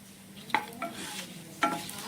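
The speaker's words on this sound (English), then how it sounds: "next we add in jeera, and then let's stir for a while" Cumin seeds with cloves and cardamom stirred in hot oil for a vegetable dum biryani: a faint steady sizzle with a couple of soft spoon knocks against the pan, close by and with no voices.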